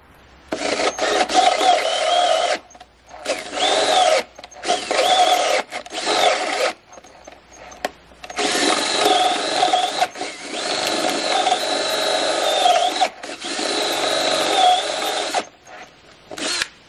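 A drill boring holes into logs for furniture pegs, loud close whirring bursts of several seconds each, starting and stopping with short pauses between, and no talking.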